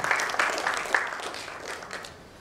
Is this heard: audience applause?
yes